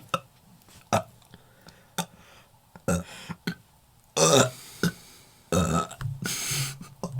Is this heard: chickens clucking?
no